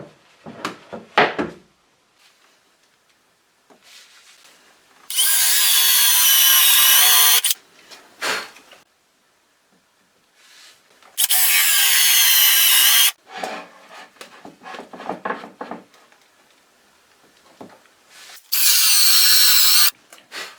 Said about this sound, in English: On the hidden side, the one facing the small circle, I drill a countersunk hole for the bolt heads.